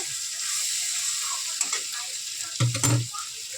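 Spices and boiled potatoes sizzle and fry in a pan while being stirred for a Bengali banana-flower and shrimp curry, with a steady hiss and a louder scraping burst of stirring near the end.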